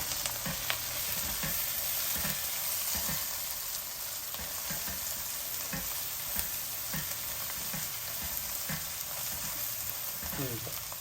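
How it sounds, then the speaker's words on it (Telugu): Onions and turmeric fry in oil with a continuous, dense sizzle, and light stirring scrapes tap out at intervals throughout. "ఉల్లిపాయలు చూసారా చక్కగా వేగిపోయాయి ఇందులో నేను అంత పసుపు వేసేస్తున్నాను"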